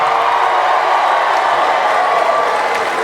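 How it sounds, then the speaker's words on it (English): A stand-up comedy audience of married people cheers and applauds, a dense, loud, continuous roar of clapping and whooping that holds steady for the whole stretch. "Married people, make some noise."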